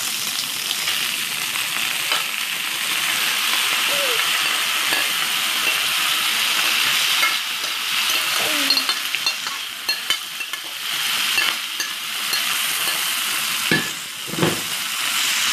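Beef for bistec a la mexicana fries and sizzles steadily in tomato sauce, a continuous close hiss with occasional stirring scrapes and light clinks throughout.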